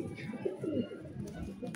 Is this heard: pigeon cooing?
yes